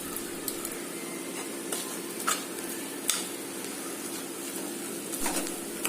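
Rice stirred in a pan for coconut milk pulao makes a soft, steady frying hiss with a few sharp scrape and tick sounds from the spoon, close and fairly quiet, with no talk.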